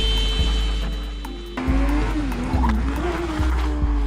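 A Honda CBR600RR race motorcycle low-sides and skids into a gravel pit, a loud rushing scrape with tyre squeal and engine whine rising and wavering over several seconds, close and continuous.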